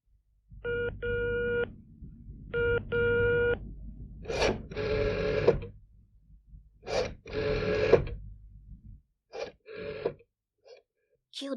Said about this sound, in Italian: Telefona alla sua amica.